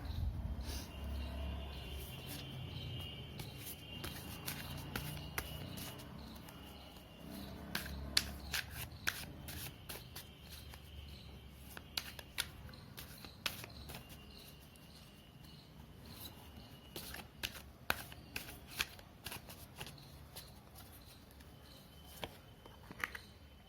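Tarot cards being shuffled and handled during a card reading: a run of soft, crisp riffling clicks and flicks, some sharper snaps among them, fairly quiet and close, with no talking.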